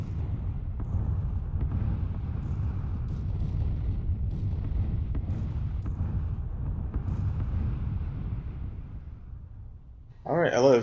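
A steady, loud low rumble of distant explosions from a bombing run in the Battlegrounds shooter game, with a dull roar continuing for several seconds, and a sharper burst of sound near the end.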